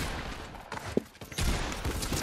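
Gunshots are fired at the player in the Fortnite video game: a short burst of sharp cracks around the middle, followed by a rougher stretch of noisy game sound.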